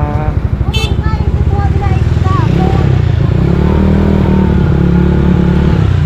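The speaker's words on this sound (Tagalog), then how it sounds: "Ay oo, motor yun." A motorcycle engine chugs and revs loudly nearby, its uneven putter steady throughout, with a brief high chirp early on.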